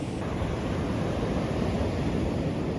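Windy-day surf at Ladies Mile Beach, Limassol, Cyprus: a constant broad wash of waves and wind noise, close and steady with no pauses or voices.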